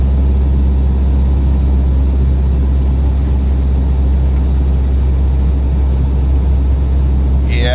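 A car engine driving uphill in fourth gear on a road through a snowy Arctic fishing village, a loud steady low drone with road rumble from inside the cabin, constant for several seconds.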